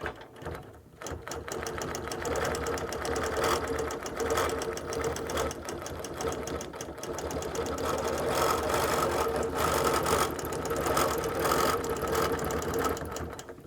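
A sewing machine stitches rows on a quilt in a long, nearly continuous close run of rapid rattling needle action, with one brief stop near the start.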